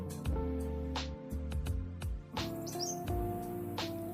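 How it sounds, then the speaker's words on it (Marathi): A red-whiskered bulbul chirps outdoors, giving repeated short bright calls in quick irregular bursts over a steady tonal background. "हा आहे शिपाई बुलबुल हा पक्षी साधारणत वीस सेंटीमीटर इतका लांबीचा आहे"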